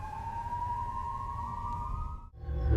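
An ambulance siren wails as a steady, loud rising tone that holds for about two seconds, cuts off sharply, and then gives way to low rumbling noise.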